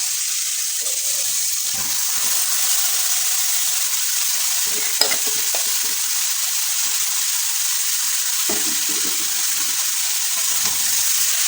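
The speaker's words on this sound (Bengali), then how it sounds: "এই পর্যায়ে দিয়ে দেবো আমি ঝিরি করে রাখা লাউ।" Grated bottle gourd hits hot, oil-released spice paste in a pan for a Bengali fish-head ghonto, giving a continuous loud sizzle and fry with occasional stirring scrapes and clinks, no voices.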